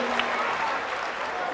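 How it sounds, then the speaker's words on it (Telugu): Audience clapping for children performing at a school cultural fest, a steady wash of applause filling the short stretch, fairly loud and continuous with a faint voice in the background. "ఒక్కసారి ఆ చిన్నారులకి మీ కరతాల ధ్వనులతో వారిని అభినందించాలని కోరుకుంటున్నాం"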